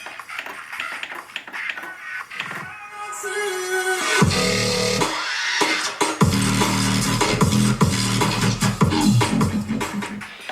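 Riddim dubstep drop played through a Pioneer XDJ-RX, opening with a quiet build of clicks and tones, then hitting loud, heavy wobbling bass and punchy beats that keep going for several seconds.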